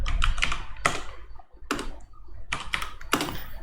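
Computer keyboard typing sounds up close as quick bursts of clicky keystrokes, separated by short pauses.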